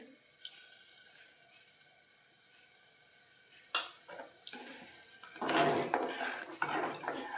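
A spoon stirs salt into ghevda bhaat, rice cooked with flat beans, in a metal pot. There are quiet scrapes at first, then a sharp clink and louder, busier metallic scraping and clattering toward the end.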